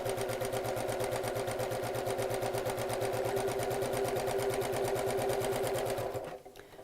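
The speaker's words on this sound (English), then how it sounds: "then draw lines again around about 1/4 inch apart, and then simply start to sew" A sewing machine stitches rows through fabric to gather it, running a fast, even mechanical whirr and clatter close by before stopping abruptly near the end.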